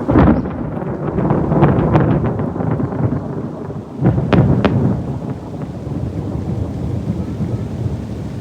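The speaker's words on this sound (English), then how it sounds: "The storm is a-coming" An approaching thunderstorm over a farm sanctuary for elderly donkeys, with steady heavy rain and wind buffeting the microphone, low rolling thunder rumbling throughout and a sharper crack midway.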